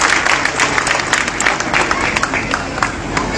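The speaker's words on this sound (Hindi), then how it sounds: "जोरदार तालियां जाकर के चंद्रा जी का स्वागत करने का काम करें।" A large crowd at an outdoor election rally claps loudly and continuously, with a dense, roaring wash of applause and crowd noise close by.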